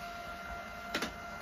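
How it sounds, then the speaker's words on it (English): A home printer printing a page: a steady mechanical hum with a short, sharper clatter about two-thirds of the way through, fairly close and with no voices. "I'm going to print it out with the printer"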